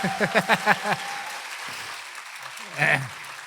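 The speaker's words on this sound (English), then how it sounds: "please join me in welcoming Ajahn Brahm by giving him a round of applause" A burst of crowd applause fills the room as Ajahn Brahm is welcomed to give a talk, with a voice exclaiming over the clapping near the start and again near the end.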